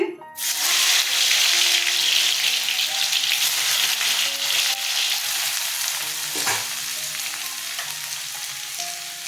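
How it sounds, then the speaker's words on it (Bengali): Potato pieces hit hot oil for a vegetarian papaya ghonto, bursting into a loud, close, dense sizzle that holds steady and eases slightly, with a few utensil knocks. "তেল গরম হয়ে গেছে আলুগুলো ছেড়ে দিচ্ছি"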